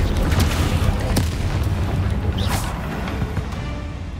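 An Incendio fire spell cast in Hogwarts Legacy lands as a loud, broad boom that rumbles on through the whole moment, with a brief whooshing flare partway in.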